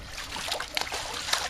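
Liquid pool chemical poured into swimming pool water just in front of a return jet, a soft continuous trickle and splash with a few brighter splashy bursts, close and fairly quiet.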